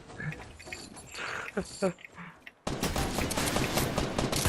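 Gunfire in Fortnite rattles through dense game audio, then a loud, sustained burst of rapid shots takes over in the second half, with players talking underneath.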